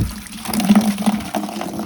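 Water runs and splashes into a container being filled for cleaning, a short close gush with a slightly gurgling, uneven flow.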